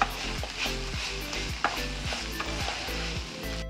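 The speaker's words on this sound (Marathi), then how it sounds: "आपण आता हे नूडल्स घालायचे, जे आपण चांगले शिजवून घेतलेले आहेत, आणि चांगलं त्याला हलवायचं" Cooked noodles sizzle in a hot frying pan while being stirred and tossed for chili garlic noodles, with repeated scraping strokes of a utensil against the pan over a steady close frying hiss.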